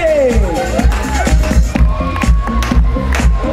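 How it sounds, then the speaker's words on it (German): Spectators at a Stihl Timbersports competition in Kaprun, Zell am See, cheer loudly under booming, rhythmic music with a steady thumping beat. "riesen großen Applaus für die Zeit von 51, 22"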